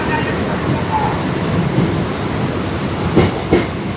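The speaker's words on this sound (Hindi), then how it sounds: "ये ट्रेन, इसको लाइन क्लियर मिलने के बाद ये ट्रेन अपने आगे की ओर बढ़ जाएगी।" A Kolkata Circular Rail train rumbling on the line near Park Circus station, a steady low roll with a few brief clanks and squeaks toward the end.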